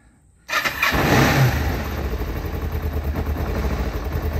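A 2006 Kawasaki KLE 500 carbureted motorcycle engine starts after a brief hush, then is held at raised revs with a steady, loud, close throb and a sustained high whine above it.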